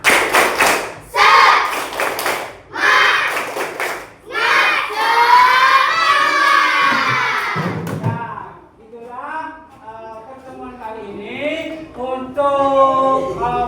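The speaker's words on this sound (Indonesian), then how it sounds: "Tepuk semangat." A primary classroom does the rhythmic 'tepuk semangat' spirit clap: bursts of loud group clapping in a quick pattern, then children chanting and shouting together.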